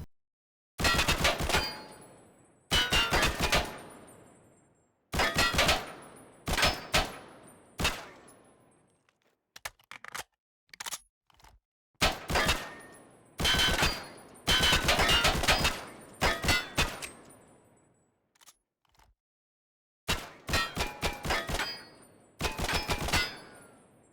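Bursts of semi-automatic fire from an SKS rifle fitted with a T-Rex heavy muzzle brake in a video game, loud, sharp reports in rapid strings of several shots with short pauses between, and no talking.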